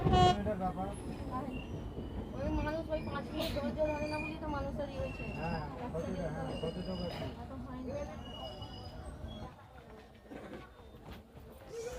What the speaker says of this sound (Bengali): সাগরদিঘিতে এসছে আমাদের ট্রেন